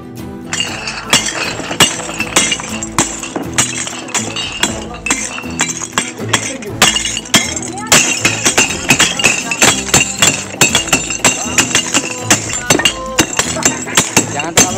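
Broken glass shards clink and crunch repeatedly during a breath-power martial arts demonstration by a PSHT Tapak Suci-style performer, sharp irregular impacts close by, with people talking in the background.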